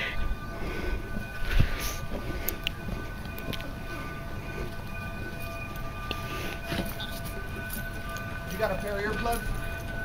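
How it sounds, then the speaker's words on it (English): A train on the Cumbres and Toltec narrow-gauge railway passes close by with rumbling, clanking and a steady rolling hum, marked by sharp metallic knocks, while people talk nearby. "The train's right here."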